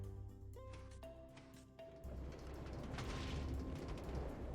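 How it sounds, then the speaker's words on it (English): A Minecraft TNT block detonates after a few short game tones, giving a broad rumbling blast that swells and lingers to the end. "hear the explosion"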